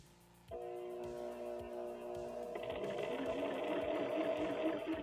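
A sewing machine runs a back stitch, its steady mechanical whir starting abruptly after a brief pause and continuing loud and close, with rhythmic needle thumps and a rising, denser hum toward the end.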